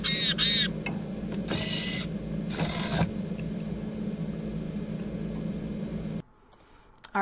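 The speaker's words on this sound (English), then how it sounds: "So the bird hears a male call and is going to go to the feeder" Short bursts of a recorded male bird's calls, a couple of chirpy phrases followed by harsher noisy calls, over a steady hum, played through a speaker.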